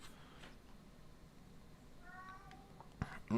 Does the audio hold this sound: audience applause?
no